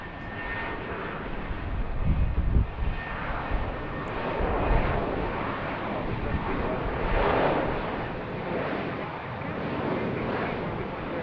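A Southwest airliner at BWI airport roars steadily with a broad rumbling jet engine noise that swells and fades, heard from outdoors with some wind buffeting.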